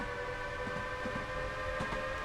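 Train Sim World game train rolling along in a steady, moderately loud rumble with a sustained tonal hum, a few soft knocks from the track, and no talk.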